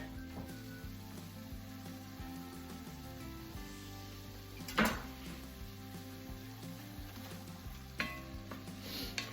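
Beef and onions sizzle steadily in a pot as garlic goes in and gets stirred, a continuous frying hiss with a brief louder clatter midway and soft music underneath.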